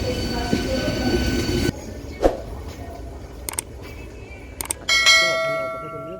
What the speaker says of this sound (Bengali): আর এটা হচ্ছে সাউথ ইস্টার্ন রেলওয়ে। হ্যাঁ বন্ধুরা, এটা একটি আধুনিক ট্রেন, যেটার মধ্যে ভ্যাকুম সিস্টেম রয়েছে।